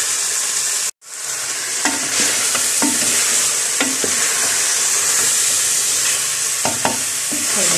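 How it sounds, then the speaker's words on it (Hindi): Meat and peas fry in a pressure cooker with a loud, steady sizzle, broken by intermittent scraping and stirring clinks of a spoon against the pot, heard close up with no voices. "इसको सही वाला भून लेंगे, मटर वगैरह डाल दिए मैंने इसके अंदर"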